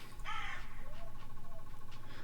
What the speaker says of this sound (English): Sorry about the crow in the background.